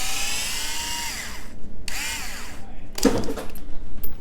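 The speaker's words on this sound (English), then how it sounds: "I've got a little power driver. It makes life a little bit quicker." Small power driver unscrewing screws on an Arrma RC car, two whirring runs with pitch sliding as the motor spins up and down, then a short rattling burst; close and fairly loud.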